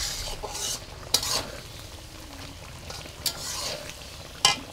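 Raw mango pickle simmers in a pan while a spoon stirs it, giving a soft continuous bubbling with a few brief scraping clinks against the pan, fairly quiet and close.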